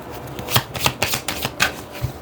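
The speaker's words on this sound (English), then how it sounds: "Let me shuffle more." A deck of cards being shuffled close up, with quick riffling bursts repeating in an irregular rhythm, no voices.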